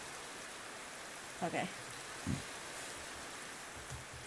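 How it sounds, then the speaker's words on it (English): Steady rain falls in Minecraft, a soft, even patter that fills the background throughout while a person speaks briefly over it. "Oh, it's raining."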